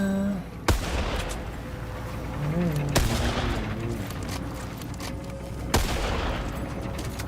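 Gunfire in a video game: three sharp, loud shots at irregular intervals stand out over a steady, busy game soundscape, and a voice speaks briefly in between.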